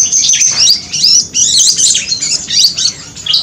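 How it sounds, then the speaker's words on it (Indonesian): A grey-headed babbler in an aviary chirping continuously and loudly up close, with rapid bright whistled trills and twittering phrases repeated in quick succession. "kita rilis burung ini om, burung tepus kepala abu. Gacor ya."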